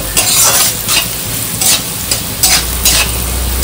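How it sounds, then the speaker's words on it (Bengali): Potatoes and flattened rice frying in a pan for chirer pulao, a loud close sizzle with repeated scraping stirs of a spatula every half second or so, no voices. "দিয়ে ভাজাটাকে একটুখানি আরো সুন্দর করে একটু ভেজে নেবো।"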